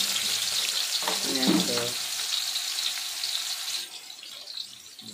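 Onions frying in a pan for potato kurma, a steady sizzle running throughout and thinning slightly toward the end, with a brief voice in the middle.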